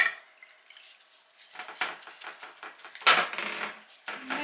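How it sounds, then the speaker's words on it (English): Walnut pulp liquid is poured back into a saucepan of chopped walnut pulp, giving soft splashing and dripping with a few light clinks of a metal pan, close and fairly quiet. "I'm going to put some of this liquid back in."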